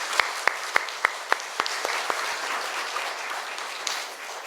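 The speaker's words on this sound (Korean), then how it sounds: "부활하신 주님 앞에 큰 박수로 영광 올리겠습니다" A church congregation honoring the risen Lord at a Sunday service claps in unison, sharp rhythmic beats at first that loosen into a softer scattered wash of applause before tailing away.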